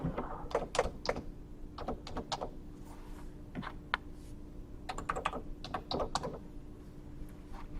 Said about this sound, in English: Type it in correctly.